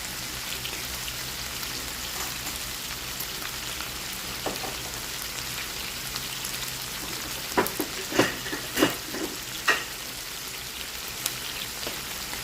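Adobo sautéing in a pan with whole peppercorns added, a steady close sizzle running throughout with a few sharper crackles and pops near the end, no talking.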